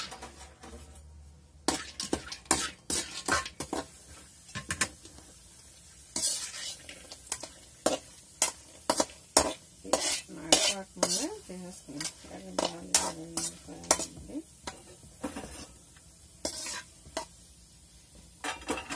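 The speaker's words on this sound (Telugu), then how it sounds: "ఇప్పుడు మనం కొద్దిగా ఆయిల్ వేసేసి జీడిపప్పు వేయించుకుందాం." Cashew nuts fry in oil in a pan while a spoon stirs them, giving a steady sizzle broken by sharp metallic scrapes and clinks, with a person talking throughout.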